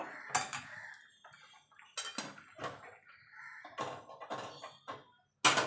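A kadai (wok) clanks down among metal pans in a home kitchen where bitter gourd is about to be fried in mustard oil; several sharp, close metallic knocks and scrapes come in bursts with quiet gaps between.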